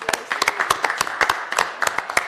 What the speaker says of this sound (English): Can we do just a quick round of applause for her?